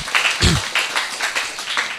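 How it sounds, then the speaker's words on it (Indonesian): A small audience claps briefly at a talk show on university admissions abroad, a short patter of scattered claps over about two seconds. "Tepuk tangan dong."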